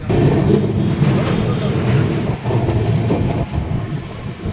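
The Kolkata–Sairang Express pulls away from Kolkata Chitpur station, a loud, continuous rumble of wheels and carriages with rhythmic clatter heard from inside the coach.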